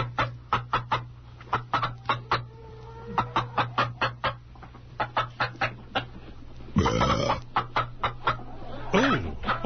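Hens cluck in a hen house, a rapid series of close, regular clucks that run on and off, with a brief rough burst of noise and a rising squawk near the end.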